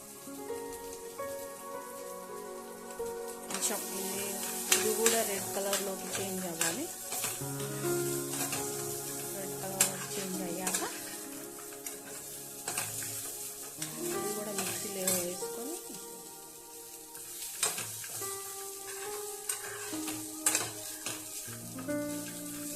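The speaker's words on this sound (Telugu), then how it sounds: "హాఫ్ టేబుల్ స్పూన్ ఆయిల్ వేసుకొని మనం కొబ్బరిని ఫ్రై చేసుకోవాలి" Grated coconut frying in about half a tablespoon of oil for coconut chutney, a steady close sizzle broken by scraping stirs and clatters of a spoon against the pan, with background music running throughout.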